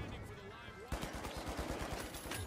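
Shotgun blasts in an online multiplayer shooter game, a rapid run of sharp repeated shots following a single louder report, with voice chat in the background.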